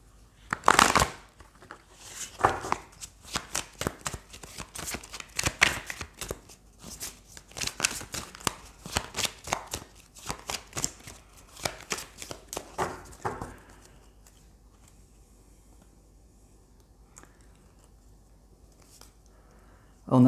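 Triade oracle cards being shuffled by hand, a rapid run of crisp riffling flicks and taps for about thirteen seconds, close and distinct, then near silence.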